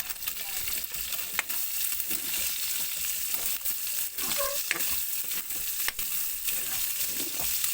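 Onions and garlic sizzle and fry in a pan while being stirred, a loud continuous crackle close by with occasional scraping clinks of the utensil and no talking.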